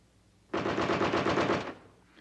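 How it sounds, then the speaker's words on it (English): An air-cooled M60 machine gun fires one sustained burst of about a second, loud and close, with individual rounds blurring into a rapid rattle before it cuts off. "The M60 is the standard machine gun for the U.S. Army."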